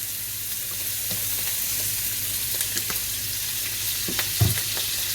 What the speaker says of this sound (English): I'm going to throw some butter in now. A little bit of oil, because the oil will stop the butter from burning.